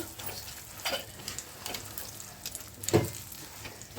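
Ghee-rich Mysore pak being stirred in a hot pan, a soft continuous sizzle with scraping strokes at intervals and one louder knock near the end, quiet and close with no talking.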